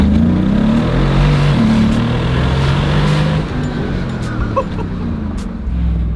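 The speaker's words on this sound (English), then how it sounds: "first I get to drive the G-Wagon some more, which has been a lot of fun because I currently been driving it in sport mode" A Mercedes G-Wagon driven in sport mode drones with a steady, loud engine and road roar from inside the cabin, the pitch shifting slightly through gear changes, while people talk quietly.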